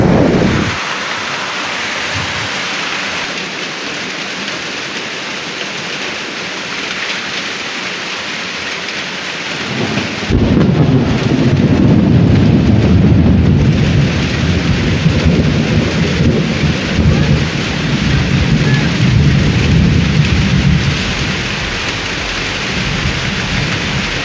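Thunder rumbles through a heavy nighttime storm, with a quieter stretch of rain giving way to a loud, sustained roar of downpour and rolling thunder about halfway through. No one speaks.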